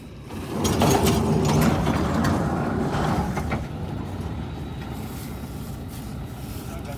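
A baler machine runs in a farm field with a loud, close mechanical clatter of rattling gears and a chugging drive that eases into a steadier, quieter churn, with no talking.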